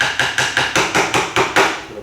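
A plastic hammer taps a pin into the trigger group of an Alpha Arms Silver Eagle 12-gauge shotgun, with eight sharp, evenly spaced close strikes in quick succession, each ringing briefly.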